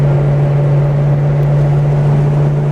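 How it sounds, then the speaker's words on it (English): A 1982 Mercury Capri's engine runs loud and steady at close range, a constant deep drone with a strong low hum and no talk over it. "it's definitely louder than Nick's Mustang."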